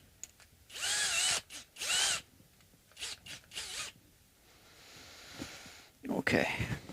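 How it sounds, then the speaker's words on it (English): Power drill whirring in short bursts as it winds the tuning pegs while restringing an Ibanez RG550 electric guitar, close and fairly quiet, with a few clicks and handling noises between runs. "So I think I do want to use my power tool."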